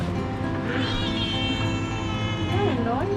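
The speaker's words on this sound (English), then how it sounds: "You're a noisy one. Oh my god, we have a new friend." A cat meows loudly and repeatedly at close range on a roadside stop in Phuket, Thailand, its drawn-out rising and falling cries continuing under a voice speaking nearby.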